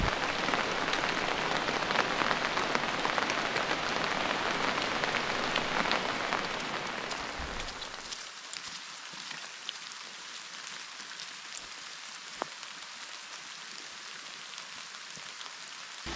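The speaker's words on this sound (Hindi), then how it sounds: "बारिश बहुत तेज़ हो रही है" Dense, heavy rain pours steadily in a deep forest, then drops off abruptly after several seconds to a quieter patter with occasional drips.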